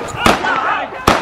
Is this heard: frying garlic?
no